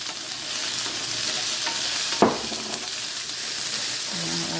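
Onion frying in oil in a pan while cooking black pepper chicken, producing a continuous close sizzle broken by one sharp scrape or clatter.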